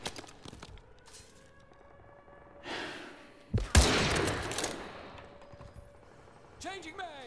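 Sniper rifle fire in Call of Duty Modern Warfare 2 Remastered, a few sharp shots with one loud blast and rumbling echo in the middle, set among quieter game noise and faint sounds of movement.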